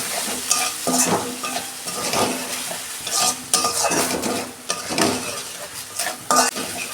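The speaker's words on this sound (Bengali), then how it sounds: "অল্প জল দিচ্ছি।" Water goes into a pan of spiced potatoes and besan, which sizzle loudly while a spoon stirs and scrapes in quick repeated strokes with occasional clinks against the pan.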